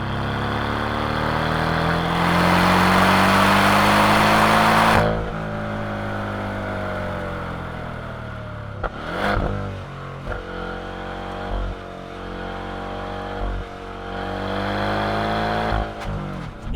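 A 2024 Porsche 718 Cayman Style Edition engine pulls hard with a loud rising roar, then drops briefly at each manual upshift before climbing again through several gears, close and continuous.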